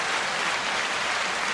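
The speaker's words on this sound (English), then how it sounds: "The one and only Charles Brown, 9-second applause" Dense, even applause for guest Charles Brown on a talk show, a steady wash of many hands clapping without a break and with no voices over it.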